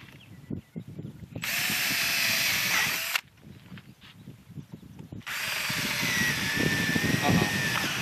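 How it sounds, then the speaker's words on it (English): A cordless power drill whines in two sustained bursts while pre-drilling wood, separated by a short pause, with people talking quietly under and between them. "Now we'll pre-drill."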